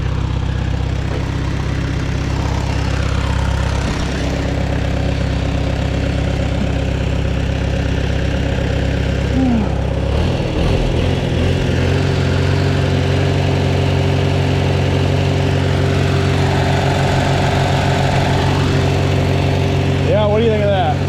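A Farmall Super A tractor engine idles steadily and loud up close, a continuous low mechanical drone that settles and shifts slightly as it idles down.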